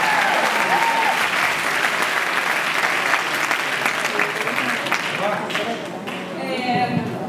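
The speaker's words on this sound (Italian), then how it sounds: "Un applauso di incoraggiamento." Sustained audience applause of encouragement at a fan club gathering, dense steady clapping from a crowd that fades slightly toward the end with some voices mixed in.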